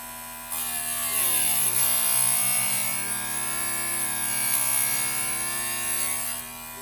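Harbor Freight electric chainsaw sharpener running with a steady motor hum and buzz, its grinding wheel on chain teeth adding a thin whine that swells and eases, moderately quiet and alone.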